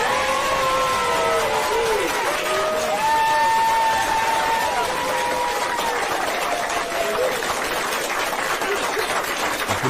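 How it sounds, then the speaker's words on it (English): Dense crowd applause mixed with cheering and sustained whistle-like tones, steady and fairly loud for about ten seconds, with scattered voices calling out through it. "This applause is for y'all."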